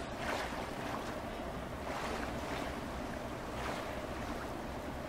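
Splashing and sloshing water surges in steady, rhythmic washes as a character swims in the survival video game The Forest. The swell of each stroke rises and falls through a continuous watery hiss, and no voices are heard.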